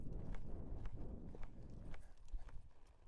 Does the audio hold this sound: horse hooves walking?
yes